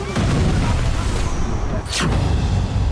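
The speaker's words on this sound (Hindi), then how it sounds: "ये तस्वीरें इजरायली एयरबेस की, जहां एक के बाद एक 20 से ज्यादा मिसाइलें गिरती नजर आई" Missiles strike an Israeli airbase in news footage, a continuous loud rumble of blasts and booms with one sharp burst near the end, heard without speech.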